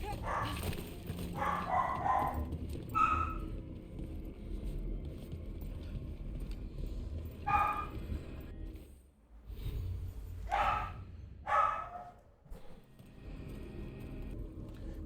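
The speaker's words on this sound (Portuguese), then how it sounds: "o cachorro tá latindo" Dog barking in the fantasy video game Dragon Age: The Veilguard, several short barks at intervals over a steady low game ambience, with no talk.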